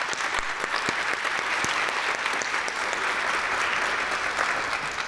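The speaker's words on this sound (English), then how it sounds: "Let's give yourselves a round of applause." Graduates at a St. Lucie Public Schools winter graduation ceremony give themselves a round of applause: dense, steady clapping from a large crowd that holds evenly for the whole stretch.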